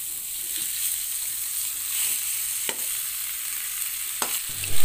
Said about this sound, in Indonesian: Kita akan tumis sampai ayamnya berubah warna.